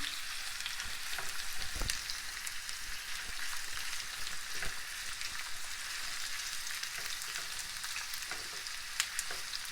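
Steady, dense sizzling of onion frying in hot oil in a pan, with occasional stirring scrapes and pops, continuous throughout with no voices.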